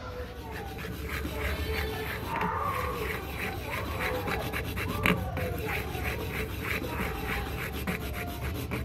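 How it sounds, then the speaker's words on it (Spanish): A hand file rasps steadily back and forth on a small part being fitted to a motorcycle clutch, a close, even scraping rhythm of quick strokes running the whole time, with faint speech in the background. "Pero yo lo estoy limando así, para que quepa."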